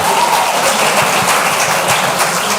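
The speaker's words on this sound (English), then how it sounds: "round of applause." An auditorium audience at a Rotary event gives a round of applause, a dense, loud wash of clapping that holds steady throughout the short stretch.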